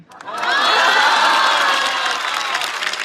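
A stand-up comedy show audience breaks into loud applause and cheering for a comedian, rising quickly to a dense, sustained roar of clapping and shouts that holds at full volume.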